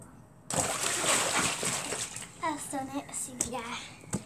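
A person jumps into a backyard pool with one sharp, close splash and sloshing water, followed by a voice talking.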